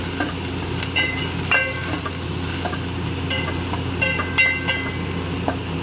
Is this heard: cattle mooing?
no